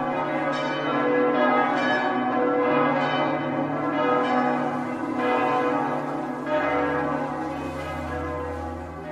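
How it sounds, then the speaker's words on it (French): Many temple bells ring together in a sustained, resonant peal, with strokes repeating roughly every second over a continuous humming drone, loud and alone with no voices. "toutes les cloches du temple englouti se mirent à sonner"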